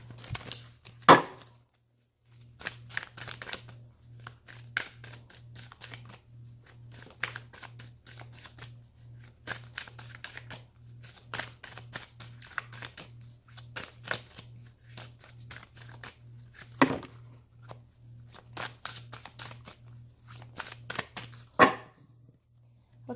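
Oracle cards from the Wisdom of the House of Night deck being shuffled by hand, a long run of quick crisp riffling flicks with a few sharper snaps, close and fairly quiet over a steady low hum.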